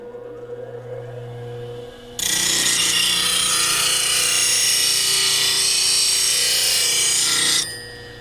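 A woodturning gouge is ground on a grinding wheel with a Robo Rest platform: a loud, steady abrasive grinding hiss starts abruptly, runs about five seconds and cuts off, with the wheel's motor hum before and after.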